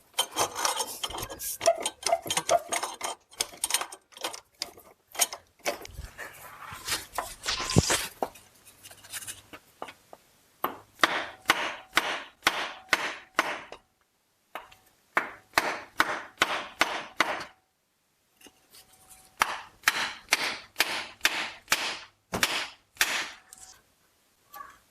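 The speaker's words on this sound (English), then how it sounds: "if you do any hitting with a board and a hammer, just focus on the transmission side" A hammer drives a board against a Chrysler Town & Country 62TE transmission case to break it loose, landing sharp knocks in fast bursts of repeated strikes separated by short pauses.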